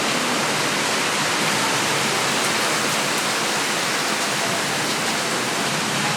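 Heavy rain pours steadily as a dense, loud, continuous hiss throughout, with no distinct thunderclap standing out.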